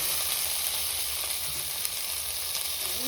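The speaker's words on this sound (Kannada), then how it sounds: "ಟೊಮೆಟೊನು ಸ್ವಲ್ಪ ಸಾಫ್ಟ್ ಆಗಲಿ, ಅಲ್ಲಿವರೆಗೂ ಸ್ವಲ್ಪ ಉರಿರಿ." Dried red chillies and tomato fry in a pan with a steady, dense sizzle that holds at an even loudness throughout, close by and with no voices.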